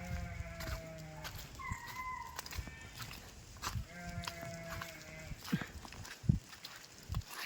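Several sheep bleat at intervals over a busy outdoor background in muddy ground, some calls overlapping, moderately close.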